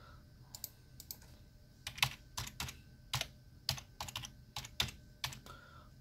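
Typing a password on a computer keyboard while setting up Windows 8.1: irregular bursts of close, crisp key clicks, some spaced and some in quick clusters, with no voice.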